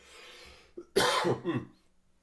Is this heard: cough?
yes